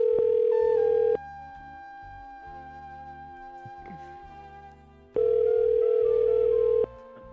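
A telephone dial tone sounds while a call is placed: a steady pure tone plays loud for about a second, gives way to quieter layered electronic tones and clicks, then returns for nearly two seconds before stopping.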